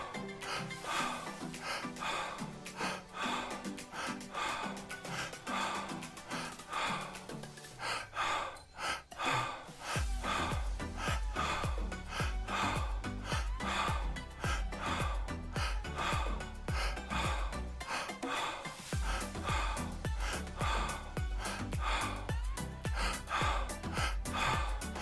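Someone performs an intense, rapid breathing exercise, with quick forceful breaths repeating continuously over a steady musical background that grows fuller and bass-heavy partway through.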